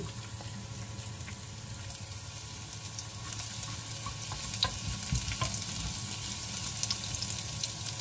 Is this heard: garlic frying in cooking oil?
yes